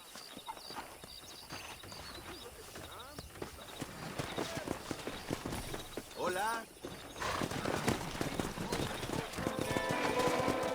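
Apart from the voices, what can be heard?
horses galloping in video game Red Dead Redemption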